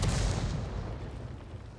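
A 105 leFH18B2 artillery shell in a tank video game is fired and strikes a building, giving one heavy, booming blast that rolls off into a long, fading rumble.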